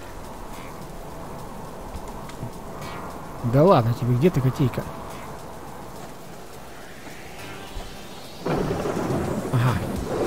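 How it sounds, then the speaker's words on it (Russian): Steady heavy rain hisses throughout a hardcore survival video game, with a loud deep rumble in the middle and another toward the end while someone talks over it. "дождь, конечно, шумит капитально"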